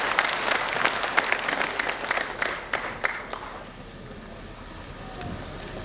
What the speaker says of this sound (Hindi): एक बार उनके लिए जोरदार ताली हो रहा है।